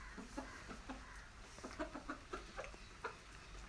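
An Aseel fighting rooster clucks and croaks in short repeated bursts over a low background hum, fairly close, with no one speaking.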